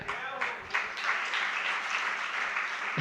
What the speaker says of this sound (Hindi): तालियां किस लिए बजी?